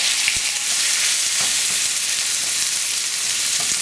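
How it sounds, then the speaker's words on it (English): Beef shank for bulalo searing in a hot pan with garlic, a loud, steady, close sizzle with occasional soft pops and light scrapes, no talking. "we'll immediately add in the beef shank or the bulalo"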